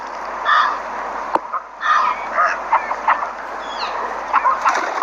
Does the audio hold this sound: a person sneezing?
no